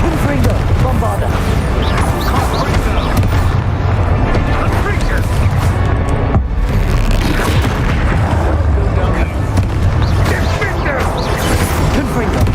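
Confringo and Bombarda spell blasts in the Hogwarts Legacy video game, a dense, continuous barrage of loud booming explosions and crashes with rumbling low end, scattered effects and voices mixed in throughout.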